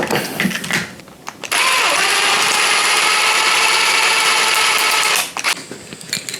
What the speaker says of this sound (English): I'm going to get a drill. Oh, it's so much fucking easier.